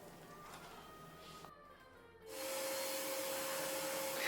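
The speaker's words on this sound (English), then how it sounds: "vacuuming the shop floor finally felt effortless, and the pickup performance was worlds ahead" A shop vac runs on a shop floor through a prototype floor sweep nozzle, with a quieter stretch giving way to a loud, steady whooshing roar with a sustained tonal whine over the last two seconds.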